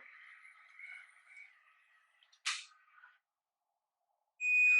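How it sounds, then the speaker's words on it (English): A faint, steady electronic tone at first, then a sharp click, a short pause, and a clear high-pitched beep from a wireless hair curler heating up. "it's beeping as many times as many seconds you put for heating"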